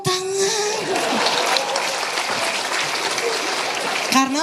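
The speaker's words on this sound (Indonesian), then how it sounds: "Tepuk tangan." Applause from an audience at a farewell event attended by Indonesia's Vice President, a dense, steady wash of clapping lasting several seconds, with a brief voice at the start and end.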